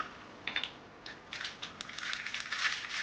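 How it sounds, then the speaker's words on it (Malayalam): Mustard seeds frying and popping in coconut oil in a pan, scattered crackling bursts that grow denser and more continuous toward the end, moderately close with no voices. "ഇനി ഇതിന് വേണ്ടിയിട്ട് നമുക്കൊന്ന് കടുക് വറുക്കണം"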